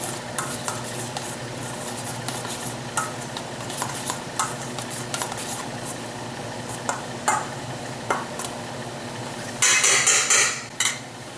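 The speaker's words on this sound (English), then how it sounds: "Give a little stir." Grated cheese stirred into a bowl of bread mixture for avocado bread buns, with a steady run of soft scraping and clinking strokes and a louder burst of stirring near the end.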